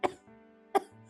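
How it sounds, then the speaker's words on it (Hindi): A woman coughing twice, short harsh bursts roughly three quarters of a second apart, close and fairly quiet with faint background tone between. "तुझे दिखाई नहीं देता माँ को खांसी हो रही है?"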